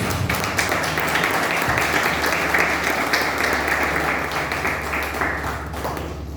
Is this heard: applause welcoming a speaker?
yes